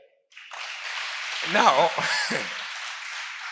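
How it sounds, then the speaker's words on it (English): An audience at a marriage talk show applauds steadily, a dense continuous patter of clapping, while someone speaks briefly over it. "Clap for them."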